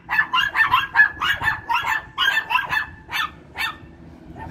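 Several small dogs bark rapidly and persistently at a city park, a dense, yappy chorus that stays steady and fairly close.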